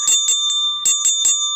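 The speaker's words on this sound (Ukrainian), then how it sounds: "тихе звучання дзвіночка" A small hand bell rung quietly in a kindergarten music lesson, with several short, soft, bright rings in a quick uneven rhythm, heard alone.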